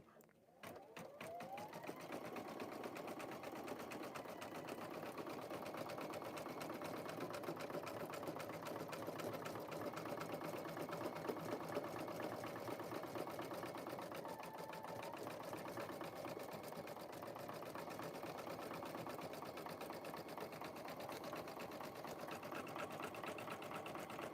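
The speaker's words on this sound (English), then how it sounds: "it was just going to stitch on the outside" A sewing machine runs steadily for about twenty seconds while stitching name badges, a continuous close mechanical whir with a faint rhythmic clatter and no pauses.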